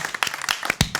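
A studio audience on a comedy game show breaks into brief, scattered applause, loud and close, in short bursts that rise and fall over about a second.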